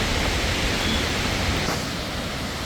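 A forest waterfall roars as a dense, constant broadband rush, close and steady throughout with no voices.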